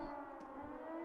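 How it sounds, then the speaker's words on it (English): A siren wailing at a fort in a video game, a steady sustained tone held for a moment with no voices. "So apparently there's a siren going off at the fort."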